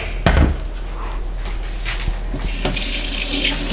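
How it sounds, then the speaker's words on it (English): Hands are rinsed under a running kitchen tap, with water splashing and hissing steadily over a few seconds, close up and without talk. "Should we give our hands another rinse?"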